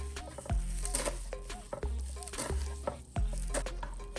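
A knife chops curly parsley, stems included, on a cutting board for an organic green seasoning, making a handful of close, dull thuds at irregular intervals over a steady background hiss.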